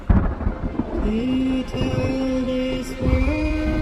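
Thunderstorm effect in a historical drama about the young George Washington in the Ohio territories: rumbling thunder and rain wash blended under a sustained musical drone, steady and fairly loud throughout.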